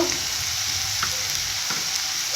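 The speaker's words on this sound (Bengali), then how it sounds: "ভালো করে ভেজে নেব এইভাবে" Soybean chunks and potatoes frying in a pan, giving a steady, loud sizzle throughout with a few faint stirring clicks.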